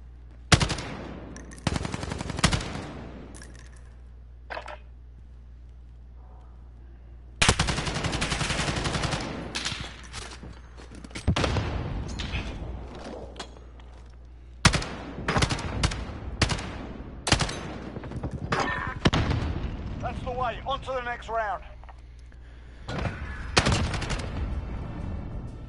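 Gunfire in the video game A Way Out: bursts of rapid automatic shots separated by brief pauses, loud and close, with no talking over them.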